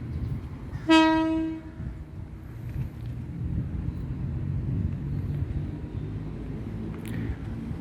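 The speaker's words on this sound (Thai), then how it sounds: "ก็ได้ยินเสียงทางสถานีนะครับผมปล่อยขบวนรถ" A short, loud horn blast sounds near the start, then a steady low rumble of a Thonburi–Nakhon Pathom suburban train departing Taling Chan station in Thailand continues at moderate volume.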